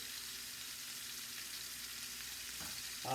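Pork for pulled pork sears in a pan with a soft, steady sizzle heard from a little distance, growing slightly louder with a faint clink near the end.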